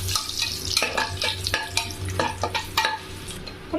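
Cashews frying in oil over low heat for ghee rice, with steady close sizzling and repeated scraping stirs in an uneven rhythm throughout.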